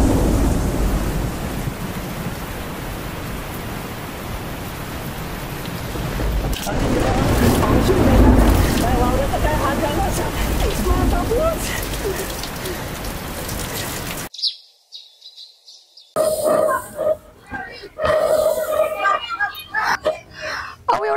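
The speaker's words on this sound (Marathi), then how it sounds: "अरे देवा, पाऊस येऊन राहिला वाटते" Rain falls in a dense, steady hiss for most of the stretch, swelling heavier midway before a sudden break and then resuming with intermittent talk over it.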